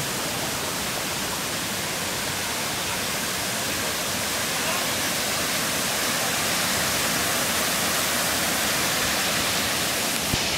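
The El Nicho falls in Villa Clara, Cuba, pour with a constant, dense hiss of falling water, loud and close, steady without pause for the whole stretch.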